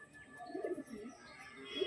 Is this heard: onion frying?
no